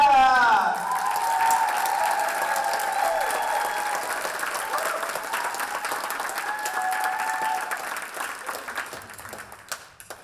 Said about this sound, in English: let's give a huge round of applause for our next great, wonderful storyteller, Nat!